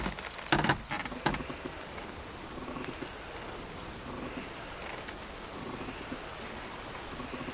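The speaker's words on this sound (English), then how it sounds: "It's a little bit of rain outside" Steady rain patters outside in the medieval video game Kingdom Come: Deliverance II, a soft continuous hiss with a few sharper knocks near the start, heard fairly faint with no voices.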